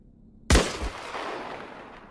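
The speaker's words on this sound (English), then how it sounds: "Can I shoot this boy back here?" A single loud Sako Elite sniper rifle shot in the battle royale video game Islands of Nyne, a sharp close crack with a short echoing tail and no talking.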